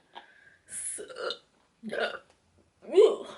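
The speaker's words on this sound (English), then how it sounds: "The burps are due to this cider." Burps after drinking cider, several short close gulping and croaking bursts with brief pauses between them, alone in a quiet room.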